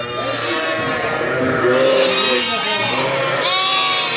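Kangal Akkaraman ewes and their twin lambs bleat repeatedly at close range, overlapping calls rising and falling in a busy pen, with a person's voice faintly present beneath.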